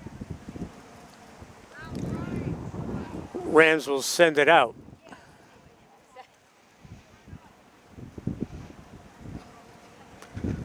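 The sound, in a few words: wind at outdoor soccer field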